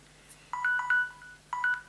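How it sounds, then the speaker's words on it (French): Telephone ringing in a music trivia game: two short bursts of electronic tonal chirps, each a quick warbling pair of notes, separated by a brief gap against a quiet hum. "Gaston, il y a le téléphone qui sonne"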